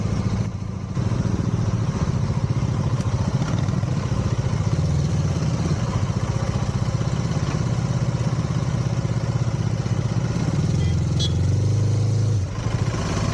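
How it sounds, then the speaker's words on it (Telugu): Heavy road traffic with motorcycles on the way to Gudisa hill station in Maridumilli, a steady dense rumble of mid-pitched engines idling and passing close by, with a louder engine swelling near the end and no talk. "చాలా ట్రాఫిక్ ఉంది."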